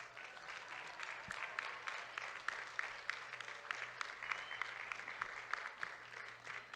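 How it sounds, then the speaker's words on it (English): Graduates clap for family and friends at a college commencement ceremony, steady crowd applause with distinct individual claps standing out, somewhat distant in a large hall. "turn to your loved ones all around you and applaud them"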